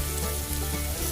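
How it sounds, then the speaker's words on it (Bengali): Onions frying in a pan give off a steady, close sizzle that runs unbroken and fairly loud throughout, with no voices over it. "পেঁয়াজ ভাজা হচ্ছে"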